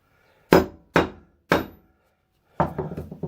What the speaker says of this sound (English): I've given it a whack with my lump hammer